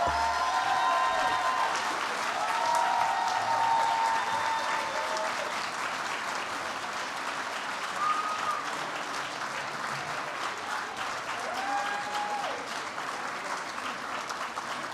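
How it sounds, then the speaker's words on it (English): Sustained applause from an award ceremony crowd, honoring two award recipients, steady and dense throughout with faint voices and whistle-like tones drifting above the clapping. "one last round of applause for both Ed and Christy"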